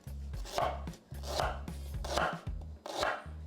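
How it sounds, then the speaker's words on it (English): A knife chops ginger on a cutting board in four firm, evenly spaced strokes, each a close, solid thud with a crisp slice, alone with no voices. "The first thing we're gonna do is chop the ginger."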